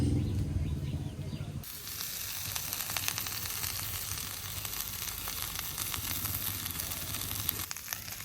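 Sliced onion and green chili fry in a hot pan in a village kitchen. A quieter lead-in gives way after a moment to a loud, continuous crackling sizzle that holds steady to the end.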